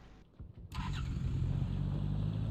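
A car engine in the video game PUBG cranks and catches, then settles into a steady, close idle rumble that continues to the end.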